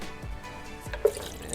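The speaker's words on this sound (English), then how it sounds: "And then I'm using the water from the coconuts as well." Coconut water pours from fresh coconuts into a container, making soft drips and trickles with a couple of dull thuds and one small splash. The sounds are faint and close, with no talking.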